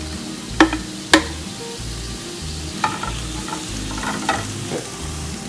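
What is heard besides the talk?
stirring ostrich egg scramble frying in a pan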